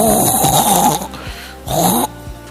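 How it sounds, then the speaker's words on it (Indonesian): A person snoring during a break in tarawih prayers in a mosque, two loud rasping breaths about half a second each, separated by a quiet gap, with a faint low hum beneath. "Ngorok dia."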